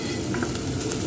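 Garlic paste frying in a pan, a steady close sizzle with light stirring, alone without talk.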